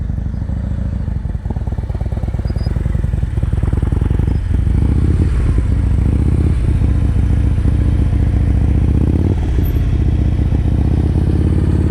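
Motorcycle riding slow-speed practice circles, a close, continuous low engine chug with rhythmic pulsing and occasional clatter, rising and easing with throttle throughout.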